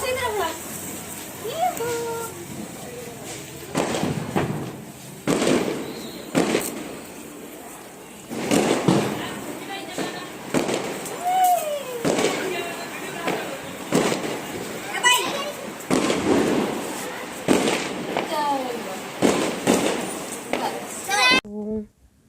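Diwali fireworks and firecrackers burst around a house celebration, repeated pops and bangs across the whole stretch under constant chatter from adults and children.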